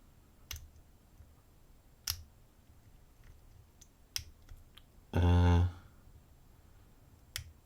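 Lock pick clicking against pin 5 of an American lock, from a large advanced multipick set: a few sharp, isolated clicks spaced about two seconds apart, with one louder, longer rattling burst in the middle.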